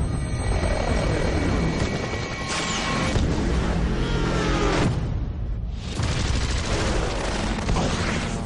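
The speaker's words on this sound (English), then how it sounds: "Five unknown aircraft on approach, range 24 nautical miles." Helicopter or aircraft rotor roar dominates a dense action mix, with scattered gunfire bursts and booms layered in; loud and continuous throughout, with no speech.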